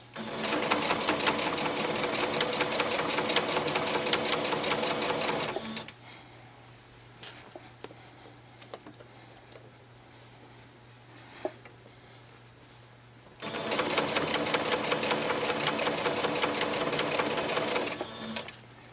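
Sewing machine stitching a pillowcase dress at a quarter-inch seam, running in steady fast bursts for about five seconds, pausing amid faint clicks and a low hum, then stitching again for another four seconds.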